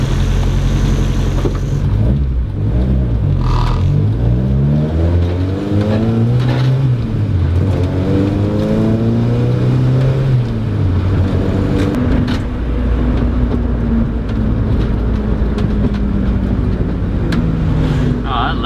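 A hatchback engine with individual throttle bodies revs and swoops up and down in pitch, loud and close, with crackly intake roar as the throttle opens and closes.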